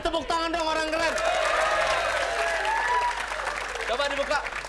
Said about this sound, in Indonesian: Woi, beri tepuk tangan dong orang keren.